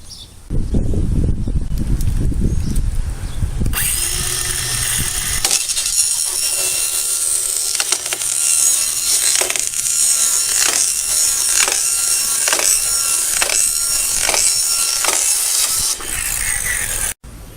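A board being hand-sawn to 48 inches for an irrigation pump cover, with steady rapid back-and-forth rasping strokes that run loud and close for most of the stretch.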